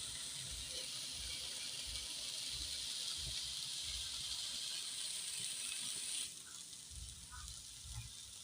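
Onion frying in a pan for aloo paratha gives a faint, steady sizzling hiss that continues without a break, softening slightly near the end.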